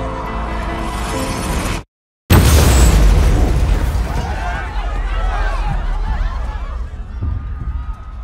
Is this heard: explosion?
yes